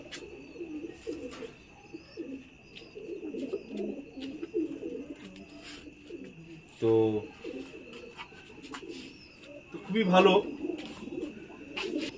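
Pigeons at a pigeon care shelter coo in soft, repeated low calls, with a couple of louder close coos standing out, while someone speaks over a steady background hum.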